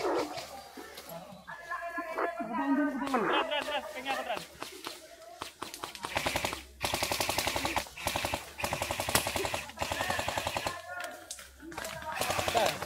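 Airsoft rifles firing in a milsim ambush, rapid bursts of popping shots that continue through most of the stretch, some near and some farther off, with shouting voices mixed in.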